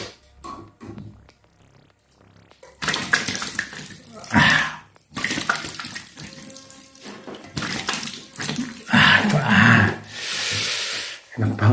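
Water runs from a bathroom tap in bursts as someone washes their face, the flow close and fairly loud, starting and stopping with splashing and rubbing between, and a voice occasionally speaking over it.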